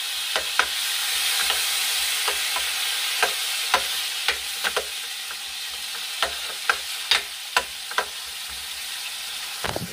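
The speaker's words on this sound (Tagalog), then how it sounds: "haluan na natin yung ginamos ha" Ginamos fish paste frying in a pot with a steady sizzle, while a utensil stirs it and knocks against the pot in a quick, irregular series of sharp scrapes and taps, close and fairly loud.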